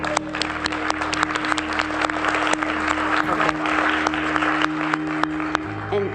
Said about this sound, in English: And let's applaud Jonathan